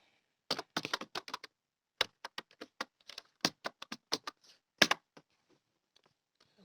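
Quick bursts of clicky keystrokes on a computer keyboard while filling in an order list, typed in short runs separated by pauses, close and clear with no voices.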